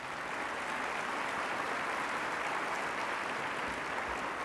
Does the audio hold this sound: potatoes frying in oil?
no